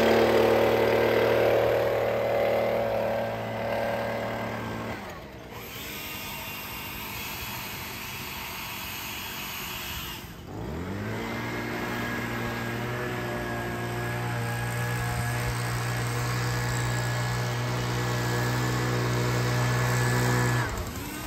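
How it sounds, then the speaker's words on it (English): An EGO 765 CFM battery leaf blower and a Stihl BG86C gas blower run in a backyard, making a sustained, whining motor drone. The pitch and level shift at two points as the machines change speed or switch over. "comparing the strength of two blowers with a wiffle ball"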